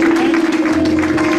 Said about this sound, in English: Give him a clap of offering.